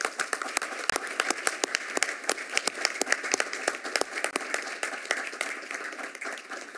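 A sparse round of clapping from a small audience at a city planning commission meeting, individual hand claps distinct and steady over a faint room hum, with no talk over it.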